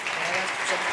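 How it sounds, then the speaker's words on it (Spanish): A brief burst of crowd applause, dense clapping from many hands with a voice mixed in. "Un fuerte aplauso."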